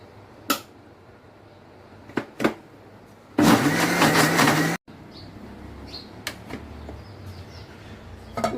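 A blender grinding dried hilsa fish, garlic, salt and onion in one loud burst of a bit over a second, cutting off abruptly, with scattered clicks and knocks before and after.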